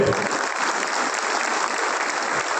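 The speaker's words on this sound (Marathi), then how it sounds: "समोर बसलेले सर्व मान्यवरांसाठी आपल्याला जोरदार टाळ्या वाजायच्या" An audience applauding dignitaries at a municipal gathering in Ahmednagar: dense, steady clapping from a large crowd, loud and continuous throughout with no pauses.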